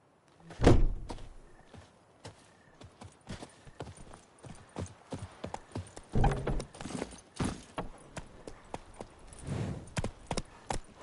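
Hooves of Roach, the horse in The Witcher 3, beat out a steady, fairly loud run of clip-clop strikes, with a few heavier thuds mixed in and no talk.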